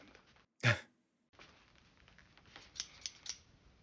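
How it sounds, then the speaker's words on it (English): A single sharp snip of scissors cutting tape sounds in a quiet room, followed by soft rustling and a few small clicks and taps. "I snip off the part of the tape on which she is described."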